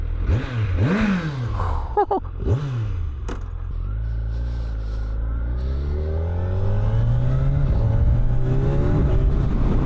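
A Kawasaki Z1100 SE motorcycle engine runs close by, pulsing at low revs and then climbing steadily in pitch as it accelerates, loud and continuous.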